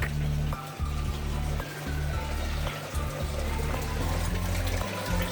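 Water flowing back into a backyard aquaponics fish tank, a steady close splashing gush with a low pump hum underneath, continuous throughout.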